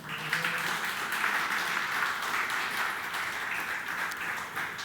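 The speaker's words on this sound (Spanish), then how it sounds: "Dale un fuerte aplauso al Señor." A church congregation applauds together, a steady, dense wash of clapping that holds at even loudness throughout with no talk over it.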